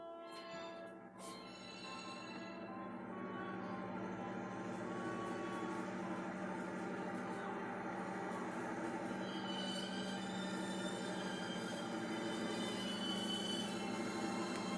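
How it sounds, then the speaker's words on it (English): An eastbound empty hopper freight train approaching, a rolling rumble that swells steadily from distant to nearer, with a faint bell and wheel squeal on top. "I believe I hear that eastbound train approaching"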